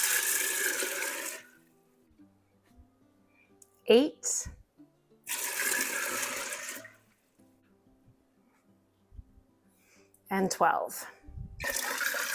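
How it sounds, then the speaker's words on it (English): Water pours steadily into a container in a few long bursts separated by pauses, with brief speech and clatter between the pours. "So we're going to put 12 cups of water in here."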